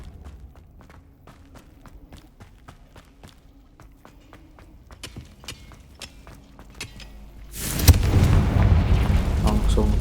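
Quiet footsteps patter in a Hogwarts Legacy game scene, then a Confringo blasting spell bursts into a loud, sustained explosive roar that fills the last couple of seconds.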